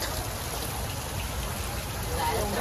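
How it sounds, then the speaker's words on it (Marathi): Steady, dense heavy rain hisses continuously close by during the Ekvira Aai palanquin procession, with a constant wash of drops and no pauses. "पाऊस खूप जोराचा लागलाय"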